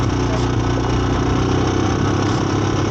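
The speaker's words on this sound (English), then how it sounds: "You hear the engine starting to get louder." A small 250EX engine runs steadily up close, a rough, buzzing drone that holds at a fairly even level throughout.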